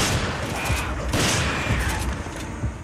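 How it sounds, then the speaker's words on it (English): Gunshots in Resident Evil 5, a continuous stretch of heavy firing with booming impacts, close and loud, with some voice in the background. "I shot his freaking head off!"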